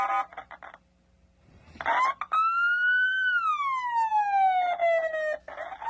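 A siren wails in one long rising-and-falling sweep, loud and close, with brief bursts of other sound at either end.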